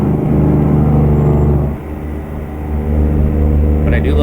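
Semi-truck Jake brake in American Truck Simulator, on a highway run from Arizona to California: a loud, continuous low engine rumble that dips briefly in the middle and then swells back up.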